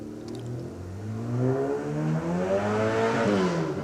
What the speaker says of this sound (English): Sean Stinger's bright blue Ford Escort there now.